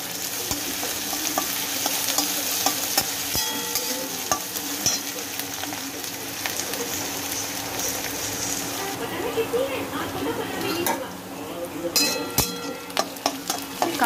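Curry leaves dropped into a pan of sautéing onion crackle and sizzle loudly, with frequent spatula stirs and scrapes; someone talks over the frying, close and continuous.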